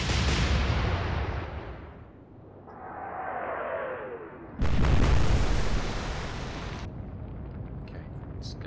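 The battleship Scharnhorst firing its guns in the naval video game Atlantic Fleet: a booming salvo fades into a descending shell whistle, followed by a loud, sudden blast that rumbles for about two seconds before settling into low background noise.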